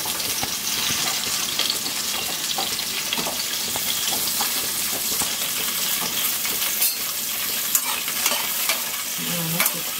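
Vegetables for aviyal sauté in coconut oil, a loud, continuous dense sizzle with scattered crackles and occasional scraping stirs throughout, no one speaking.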